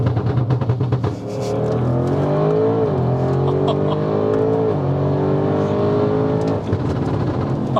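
An 830 bhp Audi RS6 C8 accelerates hard, its engine roaring loud and close from inside the car with rising pitch through gear changes, a deep, aggressive sustained growl.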